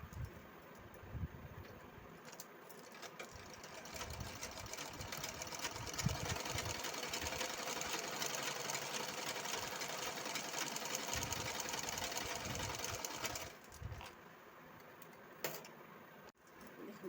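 A sewing machine stitches patiala pant fabric with a continuous fast mechanical whir and rattle, running steadily for most of the stretch before slowing and stopping, with a few clicks at the start and end.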